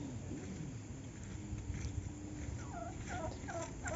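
Turkey gobbles ring out at an overnight campsite, a few quick rattling bursts in the latter half over steady low rumbling wind and water-like background noise, moderately distant.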